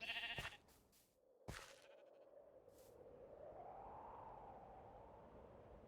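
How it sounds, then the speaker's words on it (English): A Minecraft sheep gives a couple of short bleats at the start amid game sounds, followed by a steady low wind-like hiss that swells gently, faint overall with no talk. "Hi, Mr. Sheep."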